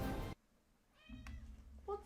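A cat meows twice, a short cry then a longer rising one, close and fairly clear after a brief burst of loud game noise cuts off into near silence.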